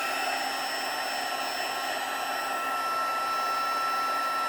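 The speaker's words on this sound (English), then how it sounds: "The second embossing that I do is way faster because it's heated up." Heated embossing tool blowing hot air for card making, a steady close whirring hiss with an even tone, no pauses and no voices.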